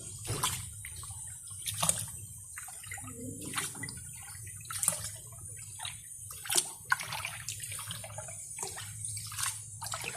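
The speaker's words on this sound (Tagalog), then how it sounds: "hugasan natin yung ating bigas para sa ating sinaing" Rice is washed by hand in water for a home-cooked meal, with repeated sloshing and splashing strokes and scattered drips at an uneven rhythm, close by and with no talking.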